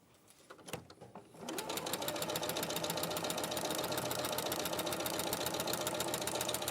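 A sewing machine stitches steadily through layered quilt fabric, starting after a few brief clicks and then running as a fast, even, close-up mechanical whir with rapid regular needle strokes and no talking.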